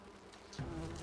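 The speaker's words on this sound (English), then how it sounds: "No. Angry bees." Angry bees in the video game Enshrouded give off a dense, steady buzzing drone that swells louder partway through, heard alone without talk.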